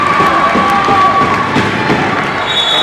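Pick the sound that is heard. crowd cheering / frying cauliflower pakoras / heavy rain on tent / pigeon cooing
crowd cheering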